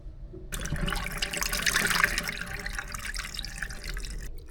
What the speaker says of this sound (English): Now I'm going to drain out this water